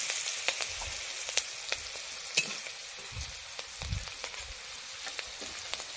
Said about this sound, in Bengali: তেলে দিয়ে দিচ্ছি কালো জিরে, চেরা কাঁচা লঙ্কা 6টা দিয়ে দিচ্ছি।